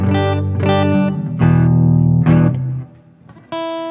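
Guitar played through reverb during a small live music livestream, sustained harmonic notes ringing out with a lingering wash, a brief dip near the end before a fresh chord strikes.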